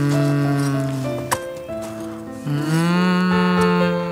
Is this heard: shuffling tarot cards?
no